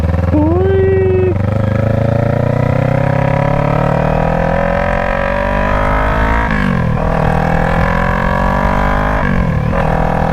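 A 2021 Kawasaki Ninja 400 with its muffler deleted revs loud and close through rising engine pulls, with clear dips in pitch at each gear change, the raw exhaust roaring continuously throughout.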